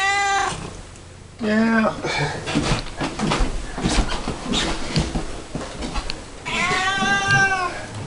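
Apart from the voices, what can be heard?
cat meowing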